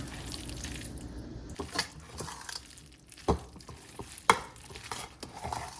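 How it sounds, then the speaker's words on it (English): A spoon mixing mayonnaise into macaroni salad, soft wet squelching and stirring with scattered clicks and taps against the bowl, close and fairly quiet. "The rest of the mayo is now added in, and time to mix it all together"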